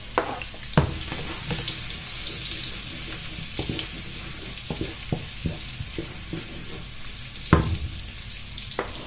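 Garlic sautéing in a pan before shrimp is added, with a steady sizzle under scattered sharp clacks and scrapes of a utensil stirring against the pan, close and moderately loud.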